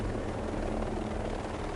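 Military helicopter in the Ghost Recon video game, a loud, steady rotor-and-engine drone filling the whole moment with constant, close, unbroken thrum and no talking over it.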